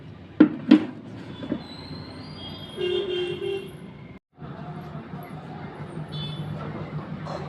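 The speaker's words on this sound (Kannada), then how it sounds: "ಮಿಕ್ಸಿ ಹಾಕ್ತಾಯಿದ್ದೀನಿ." A kitchen mixer grinder with a small jar blends chutney. The motor whirs in bursts with a whining tone, stops briefly partway through and then starts again, after a couple of clicks at the start.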